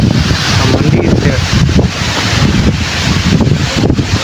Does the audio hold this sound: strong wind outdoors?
yes